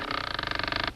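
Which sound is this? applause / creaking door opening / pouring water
creaking door opening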